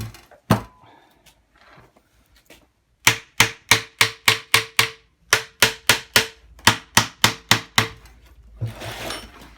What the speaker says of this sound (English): using a brass hammer. That doesn't mean I won't break the casting if I'm not gentle.